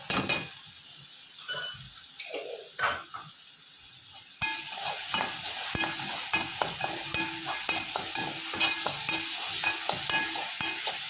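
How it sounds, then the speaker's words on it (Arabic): Tomato paste is stirred and sautéed with onions in a pan for a peas-and-meat stew. A few scrapes and clinks come first, then a steady, close sizzle with a spoon scraping through it. "وبعدين ننزل بمعلقة الصلصة، تاخد تشويحة برضو مع البصل"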